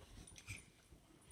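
A dog whimpers faintly indoors, giving a few soft, brief whines and snuffles spread unevenly through the moment, with no talk over them.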